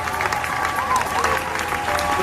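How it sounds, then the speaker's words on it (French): Congregation at a Christian revival gathering applauding and acclaiming Jesus Christ, a steady wash of clapping and crowd voices throughout, moderately loud and continuous. "Alors qu'Ozofanda acclame encore le Seigneur Jésus-Christ."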